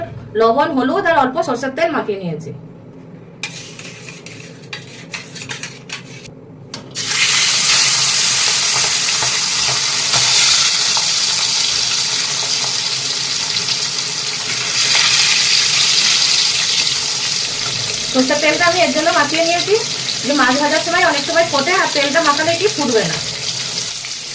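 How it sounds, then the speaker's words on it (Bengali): Fish dropped into hot mustard oil in a wok fries with a loud, steady sizzle lasting many seconds, while someone talks briefly before and after it. "এবার আমি এই মাছগুলো ভেজে নেবো"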